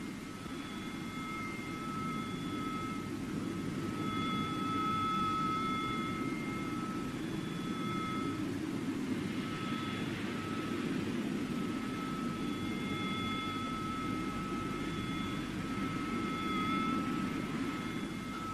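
Aircraft over Falkland Sound in wartime footage filmed from a frigate, a steady distant jet engine roar with a low rumble and faint thin tones above it, continuous and fairly quiet, with no speech.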